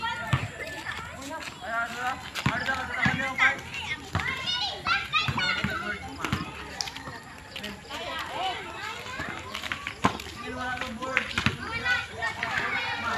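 Children play outdoors at a neighborhood hangout spot, their lively shouts, chatter and running steps overlapping continuously with sharp knocks and bounces, fairly close and busy throughout.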